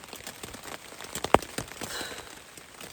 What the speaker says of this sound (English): it's been raining for like 9 straight hours